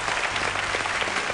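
Studio audience applause on an Italian game show, a dense, even wash of clapping filling the whole moment without pause.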